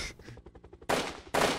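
Gunshots in the VR game Hand Simulator, two loud, sharp blasts separated by a short pause, following a brief stretch of quieter rhythmic clicking.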